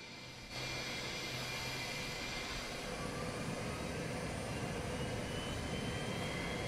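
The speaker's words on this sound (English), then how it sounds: "Start right engine. Starting right engine." Right engine of a vintage USAir MD-80 airliner spooling up on start, a rising jet whine and rumble that comes in abruptly and holds steady, heard from inside the cabin.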